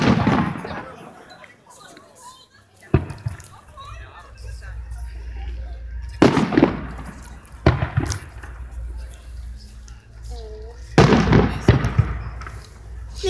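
New Year's fireworks rockets explode outdoors with loud sharp bangs and crackling bursts recurring every few seconds, while people talk nearby throughout.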